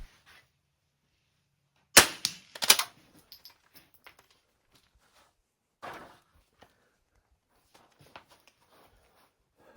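Rifle shots at steel targets from a barricade during an NRL22 match, one sharp crack followed by a quick follow-up, then a fainter shot later, spaced by quiet handling noises.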